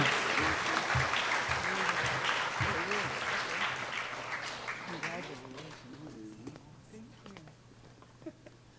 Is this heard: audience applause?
yes